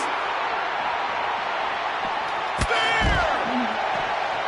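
A wrestler slammed to the mat in WWE 2K19, one sharp loud impact followed by crowd noise and a rising whoop, with a commentator's voice running throughout.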